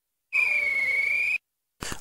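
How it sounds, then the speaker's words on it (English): A train guard's whistle gives one long, loud, steady shrill blast of about a second, followed after a short pause by the start of another burst. "He blew his whistle,"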